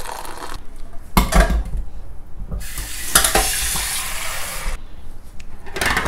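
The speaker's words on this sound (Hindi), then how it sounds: "इसको बढ़िया से फेंटो, मतलब सही से मिक्स करना है इसको" Spoon whisking instant coffee and sugar in a cup, a close scraping and clinking stir in uneven bursts, with a few sharper knocks against the cup.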